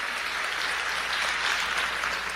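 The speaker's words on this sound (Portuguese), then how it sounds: "Você pode aplaudir a Ele?" A church congregation applauding during a Portuguese-language worship service, a steady, even wash of many hands clapping at moderate volume with no speech over it.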